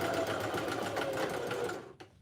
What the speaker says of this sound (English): I need a bigger throat plate sewing machine or stop taking on these projects because my sewing machine is small.